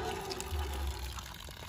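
Water gushing steadily from a hand pump outdoors, a continuous close splashing flow with a low rumble, running alone without talk.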